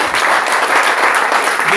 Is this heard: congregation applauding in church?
yes